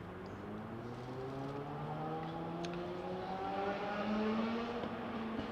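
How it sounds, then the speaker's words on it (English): Steady engine roar with rising and falling tones as fast vehicles pass by, loud and continuous with no talking. "I've heard a lot of fast cars and fast motorcycles today"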